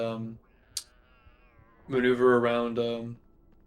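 Mrs. Norris the cat gives a short, clear meow in the Harry Potter and the Philosopher's Stone game, after a quiet stretch with a faint click, as someone talks alongside.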